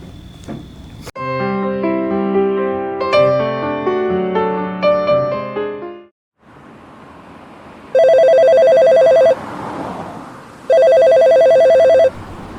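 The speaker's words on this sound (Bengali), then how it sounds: "বসের ফোন।" An old-style telephone bell rings loudly in two long bursts with a short gap between them, following a stretch of music that stops abruptly.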